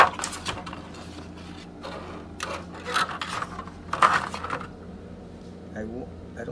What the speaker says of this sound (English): Let me pull it out of the packaging.